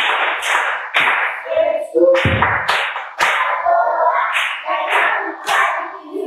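Group of children clapping hands at a church children's gathering, a series of sharp, loud claps in an uneven rhythm, close by, mixed with excited voices.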